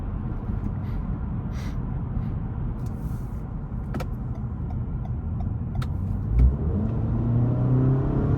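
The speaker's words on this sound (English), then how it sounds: "As you can see, plenty of power, passing power." A 2021 Toyota Camry XSE hybrid accelerates to pass, heard from inside as a steady low engine and road rumble that swells slightly toward the end, with no talking.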